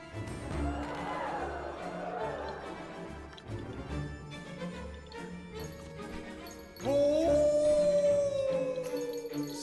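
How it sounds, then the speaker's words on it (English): Long, rising howls from dogs or wolves in a dark, spooky scene, building in strength and growing louder and nearer, with one sustained loud howl toward the end. "The howls grew closer and closer."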